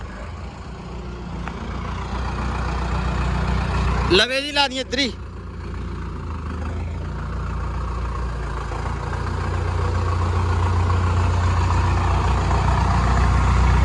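A heavy Mustang tractor engine rumbles steadily and grows louder as it drives in, with a person speaking briefly over it.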